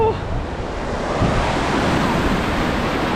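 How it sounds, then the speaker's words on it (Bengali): Loud, continuous roar of ocean surf breaking close by at Palm Beach, Sydney, with wind rumbling against the microphone and no clear voices. "ভালো ঢেউ কিন্তু ঠান্ডা পানি"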